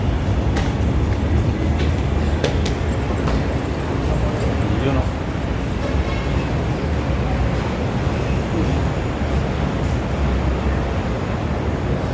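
A loud, steady rumble and roar of an MRT train passing over Quezon Avenue fills the scene, with faint rattling and indistinct voices mixed in.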